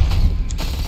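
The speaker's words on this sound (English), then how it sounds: "Oh, those explode." Enemies blowing up in Deep Rock Galactic Survivor, a dense run of booming blasts and crackling game effects packed into a second, loud and close with no talk over it.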